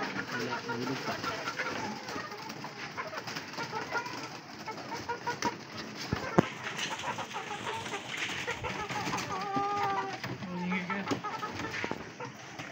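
Pigeons coo and cluck in a busy coop, with a person talking in Filipino over the steady chatter of the flock.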